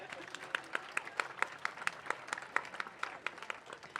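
Audience at a pro-life march in Ljubljana breaks into scattered, moderately distant applause, a steady patter of many hands clapping for several seconds.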